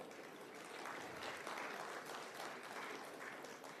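Faint, distant audience applause at a constitution day event at a forensic sciences institute in Lucknow, heard after a panelist is introduced; dense, even clapping holds steady for a few seconds.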